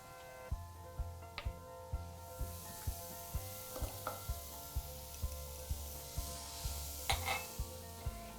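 Sliced garlic cloves sizzle in a pan with carrots, a steady frying hiss under a repeated rhythmic stirring scrape, with a couple of brief metallic clinks from the pan.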